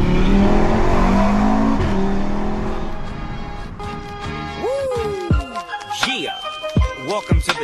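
A Stage 2 tuned Audi RS3 accelerating hard on a night drive, its engine roaring loudly through climbing gears, followed by sharp pops and crackles from the exhaust as it lifts off.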